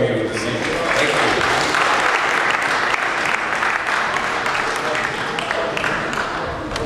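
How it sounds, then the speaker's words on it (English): An evening audience at a talk on steel pans and Caribbean music gives a steady, full round of applause, dense clapping that holds at an even volume throughout. "I would like you to give him a big round of applause, please."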